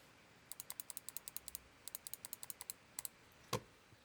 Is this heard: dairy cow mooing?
no